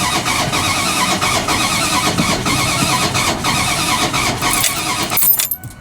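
Car engine cranking repeatedly without catching, suspected out of time from a timing chain problem; a loud, continuous starter churn with rhythmic pulses for about five seconds, then it cuts off abruptly.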